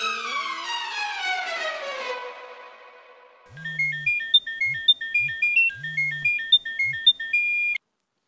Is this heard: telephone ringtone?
yes